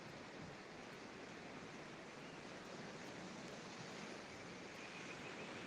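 Ocean surf rolls steadily at San Bartolo Beach in Lima, Peru, a soft continuous wash of waves heard at a distance, faint and even, with no voices.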